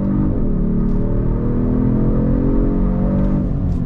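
A 2022 Genesis G70 Sport's engine pulls hard under throttle with a deep, loud rising drone and a shift in pitch midway, heard steadily from inside the car with no one speaking.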